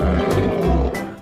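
A toy lion gives out a loud, close, electronic roar that lasts just over a second before fading slightly at the end.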